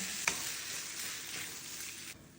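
Calamari frying in hot oil and butter with a spoonful of chermoula, a steady close sizzle with a brief sharp crackle near the start, tapering off toward the end.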